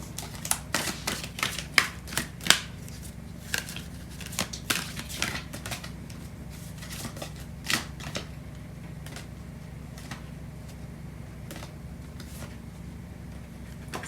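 Tarot cards being shuffled and drawn make quick papery flicks and clicks, dense in bursts at first and then thinning to scattered snaps over a soft steady background, with no talking.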